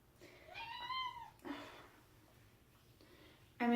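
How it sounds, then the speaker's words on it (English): A house cat meows for food in a kitchen, giving two or three drawn-out, tonal meows close by, then a short pause of quiet room noise before a louder, sharper cry at the end. "I'm in the kitchen, so the cat thinks she needs food."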